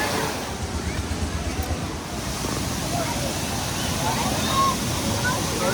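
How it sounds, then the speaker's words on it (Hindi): A mountain waterfall of very cold water roars with a steady broadband rush, full and continuous throughout, with a crowd of visitors around it. "तो ये रहा वाटरफॉल।"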